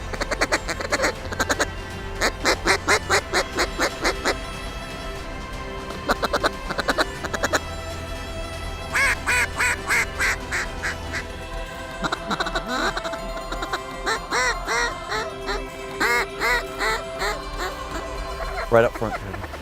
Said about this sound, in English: all these ducks and geese are ramping up for the migration south